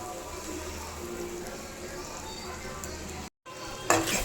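Three eggs frying in a pan for egg bhurji, a soft continuous sizzle close by, with a brief cut near the end followed by a sharper burst of sizzling.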